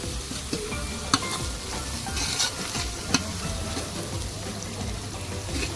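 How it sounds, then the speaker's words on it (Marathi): Onion and curry leaves fry in a pan with a continuous sizzle, broken by scraping stirs and a few sharp knocks of the spoon against the pan, heard close and without talk. "आता थोडा कांदा शिजत आलेला आहे"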